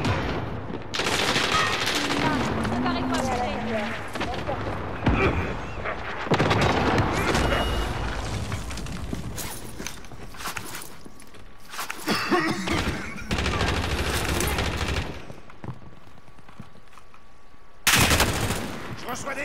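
Minigun fire in Call of Duty: Modern Warfare roars in long sustained bursts broken by short gaps and a few heavy booms, with voices talking in between.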